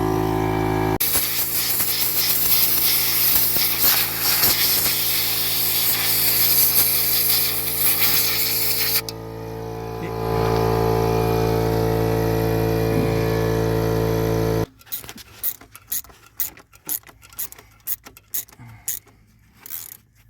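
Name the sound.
7 mm socket tightening hose clamps on Renault engine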